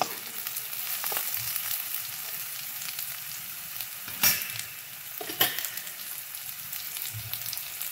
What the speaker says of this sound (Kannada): ಕ್ಯಾರೆಟನ್ನು ಹಾಕಿ ಕೂಡ ಒಂಚೂರು ಕೈ ಆಡಿಸ್ಕೊಳ್ಳೋಣ